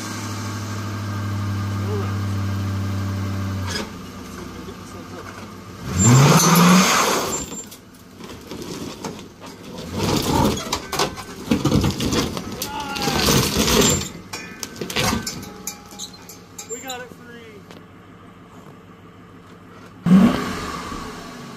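A 1968 Ford engine cranks and catches in several separate attempts, with bursts of revving and sputtering broken by pauses, alongside a steady hum at the start and someone talking between tries.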